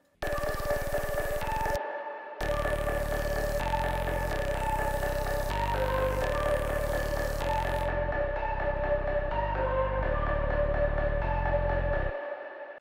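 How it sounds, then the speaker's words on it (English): A reese bass synth in an electronic music production, its thick sustained low growl running under layered bright synth tones, loud and continuous with brief gaps and changing sections. "Get a different reese in here"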